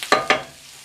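Two quick scraping stirs of garden potatoes in a hot frying pan, each a brief bright sizzle-scrape in close succession, then a soft fading sizzle.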